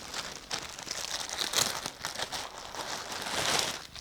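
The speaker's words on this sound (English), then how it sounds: "Sorry, rustling again." Crinkly packaging rustled while unpacking newly ordered clothes, a close, continuous crumpling and crackling with louder bursts and brief pauses.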